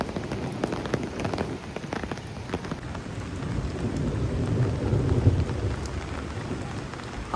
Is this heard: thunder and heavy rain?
yes